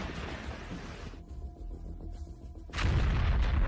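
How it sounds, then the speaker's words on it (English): A Ukrainian tank fires on a Russian APC, heavy booming blasts and rumbling bursts filling the scene, with a brief lull before another loud, close impact erupts. "With a perfect strike, the Ukrainian tank destroys it."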